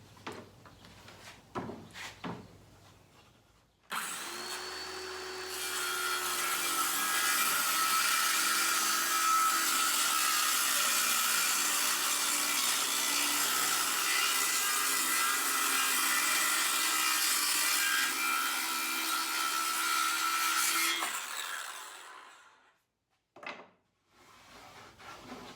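A saw works steadily through a wooden board for a console table, a loud, continuous rasping cut lasting about seventeen seconds, with a few faint knocks and handling sounds before and after.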